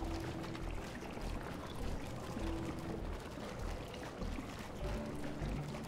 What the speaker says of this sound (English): It sounds like they're wringing out like a towel over a bucket or something.